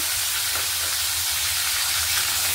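Chopped tomato hitting hot oil in a frying pan, a loud continuous sizzle and hiss that stays steady throughout with no voices.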